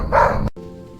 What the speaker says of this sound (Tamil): நாய் கூட குறைக்குது, நிச்சயம் பேய் தான்